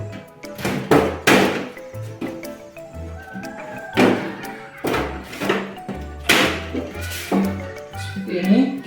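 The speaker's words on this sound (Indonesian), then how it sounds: "Untuk memasangkan casing, kita tinggal masukkan ke dalam casing." Computer casing being fitted onto a PC during assembly, a series of close knocks, thunks and clunks of metal panels in an irregular rhythm, with background music underneath.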